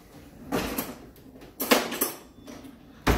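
Spoon scraping and clanking against the metal inner pot of an Instant Pot while beef stew seasoning is stirred in, a few separate bursts of clatter, close and moderately loud.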